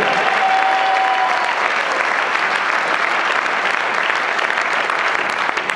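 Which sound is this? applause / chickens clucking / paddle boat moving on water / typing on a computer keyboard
applause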